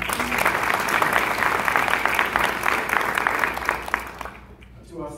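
A room of attendees at a civic gathering with elected officials breaks into steady, loud applause that carries for several seconds before tapering off abruptly near the end.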